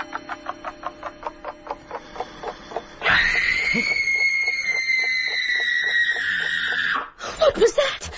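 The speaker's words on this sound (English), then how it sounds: "What was that? Scream." In a radio drama, a woman's long, sustained scream cuts in after a run of rhythmic ticking, holding loud and piercing for about four seconds before breaking off, then a voice speaks right after.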